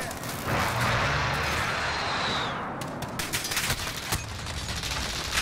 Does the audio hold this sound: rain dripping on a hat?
no